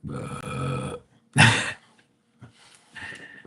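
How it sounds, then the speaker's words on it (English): A female dog lets out a big, loud burp, a single harsh belch between stretches of quieter breathy sounds, nearby and clearly audible. "she burps like a fucking human being"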